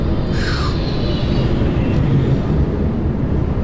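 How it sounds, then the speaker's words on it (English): A passenger plane descending on approach to an airport passes overhead, a broad steady roar with a faint rising whine, heard over continuous road and engine rumble from a moving vehicle. "there's a plane coming in for the airport"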